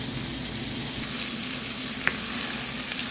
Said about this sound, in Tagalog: At ilalagay natin yung ating hipon.